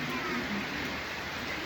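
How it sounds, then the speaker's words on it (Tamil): Heavy rain falling steadily at night, a dense, even hiss that holds at constant strength throughout with no distinct individual drops standing out. "மழை, சரியான மழை பெய்யுது பாருங்கள்."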